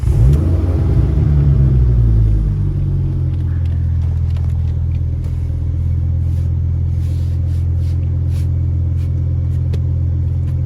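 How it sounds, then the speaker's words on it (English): A Ford Focus ST Mk2 engine rumbles loudly as it starts and revs, then settles into a steady, close idle hum. "You could have the engine running"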